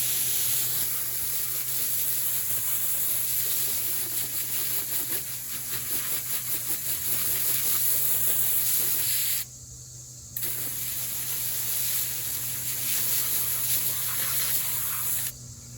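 Hose nozzle spray rinsing motocross boots, Alpinestars Tech 10 and AXO Dart Pro, a steady loud hissing jet of water that runs for long stretches, cutting out briefly twice.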